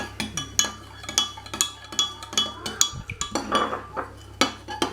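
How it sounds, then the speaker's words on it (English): Metal spoon stirring a homemade aloe vera hand sanitizer mixture in a bowl, giving repeated sharp clinks and scrapes in a steady rhythm, close and fairly loud, with no talking. "Give it a good stir, guys."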